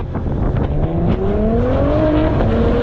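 Cadillac ATS-V twin-turbo V6 with a muffler delete, loud and close, its exhaust droning steadily as the revs climb in a rising tone, with a throaty wah-like note.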